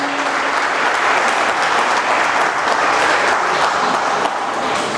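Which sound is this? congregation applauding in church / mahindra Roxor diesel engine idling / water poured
congregation applauding in church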